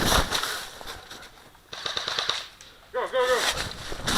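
Airsoft guns rattle off rapid bursts of cover fire during a capture-the-flag match, loud and close, with brief pauses between volleys and a voice calling out partway through.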